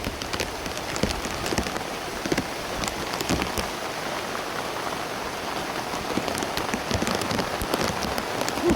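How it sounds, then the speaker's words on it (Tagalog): Heavy, steady rain pours down on a surface in the mountains, a dense continuous hiss with scattered louder drops, no voices. "Grabe nga ulan."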